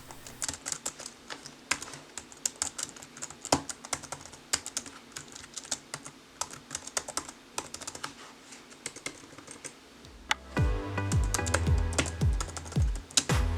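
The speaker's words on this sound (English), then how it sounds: "you're not gonna get big noise from this keyboard when you're typing." Soft, quick typing clicks on an HP Chromebook keyboard in irregular bursts, fairly quiet, joined near the end by a low hum.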